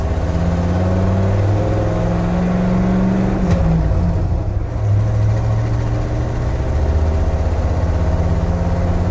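A ramp truck with a 460 engine and ZF5 gearbox accelerates in first gear, giving a loud, steady, close engine drone that rises slightly and stays continuous throughout.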